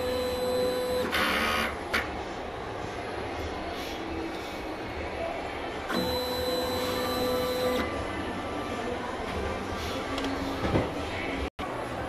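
A DTF printer runs a print head cleaning cycle with a steady mechanical whir and pump hum, with periodic brief bursts of higher-pitched motor whine and a short click near the end.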